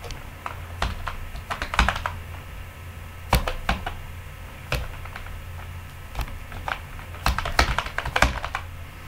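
Fingers typing an email address on a computer keyboard: irregular clusters of crisp, close key clicks with short pauses between bursts, no voices.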